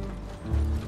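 Horse hooves clip-clop in Red Dead Redemption 2, a short close burst of hoof strikes with a low thud amid steady game ambience.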